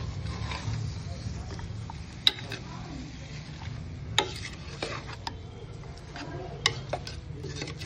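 Country-style chicken sizzles in a pan as it is flipped and cooked, with a steady low frying hiss. Sharp, scattered clicks and taps of a utensil against the pan break through at irregular intervals.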